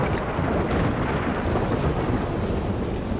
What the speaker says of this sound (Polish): Sam śnieg jest fajny, ale nie takie burze.